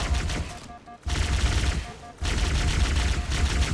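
Rapid automatic gunfire from a weapon in Halo 2 co-op campaign, loud continuous bursts close up, broken by two short pauses before resuming.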